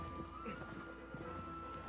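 Horse hooves clip-clopping at a gallop in Shadow of the Colossus, a steady rhythmic patter of fairly quiet hoofbeats under a constant droning tone and game ambience.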